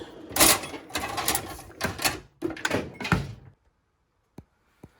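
Several bumps and rattling knocks as a drawer is pushed closed, then silence broken by two faint taps.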